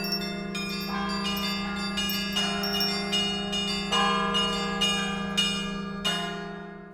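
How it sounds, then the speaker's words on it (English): Several bells ring out in an overlapping, cacophonous peal, struck again and again at irregular intervals with long shimmering decays over a steady low hum, loud and close. "He heard the bell begin to ring louder and louder, and slowly but surely more and more bells joined the otherworldly choir."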